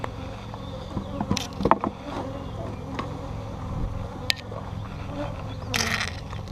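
Honeybees hum low and steadily around an open hive during an inspection, a droning buzz under scattered clicks and knocks of frames being handled.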